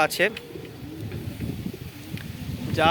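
Pigeons in a home loft cooing softly in low, throaty bursts over a short stretch, one sharper call near the start and faint rustling around them.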